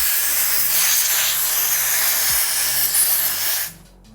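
Compressed air blasts from a handheld air nozzle during rear-brake removal on a bicycle: a loud, steady hiss runs for about three and a half seconds, then cuts off abruptly.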